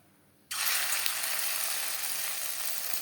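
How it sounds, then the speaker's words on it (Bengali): Egg pakoras hit hot refined oil and burst into a loud, steady frying sizzle that starts suddenly and holds without a break. "বড়া ভাজবার জন্য রিফাইন্ড অয়েল গরম করে নিয়েছি তেল আমি হাই ফ্লেমে গরম করে নিয়েছি বড়াগুলো ভাজবো মিডিয়াম ফ্লেমে"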